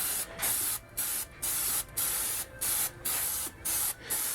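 An aerosol spray can hisses onto a 1986 Mustang door panel in seven short bursts separated by brief pauses, close and steady, with no talking.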